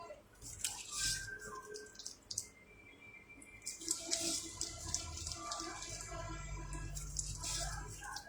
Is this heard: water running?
yes